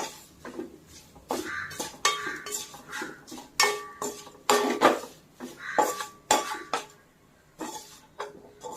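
A spoon stirs red chilli powder in a pan for a fried poha chivda, making repeated metallic scraping and clinking bursts in an uneven rhythm, close and fairly quiet, with no talking.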